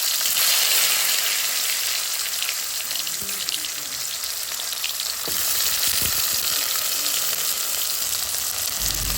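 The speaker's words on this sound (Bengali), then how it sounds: "সব শেষে আমরা ভেজে নেব কেটে রাখা টমেটো।" Chopped tomatoes fry in a pan for a village-style egg, brinjal and tomato bharta, giving a steady close sizzle with soft stirring scrapes and no talking.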